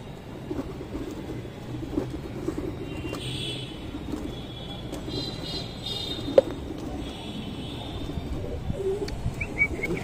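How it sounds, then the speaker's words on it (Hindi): Soft pigeon coos murmur among light chirps over a low, steady outdoor rumble, with an occasional sharp tap. "ये देखिए, ये भी एक एक करके कबूतर आ रही है।"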